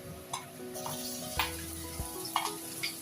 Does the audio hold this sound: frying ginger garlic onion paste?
yes